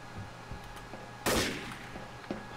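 A single sharp, loud gunshot cracks out in the game Trouble in Terrorist Town, standing alone against quiet background noise with a faint smaller pop trailing a second later.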